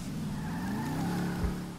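Car engine hum in GTA Online with a rising whine and a short tire squeal as the vehicle drives off, steady and fairly close.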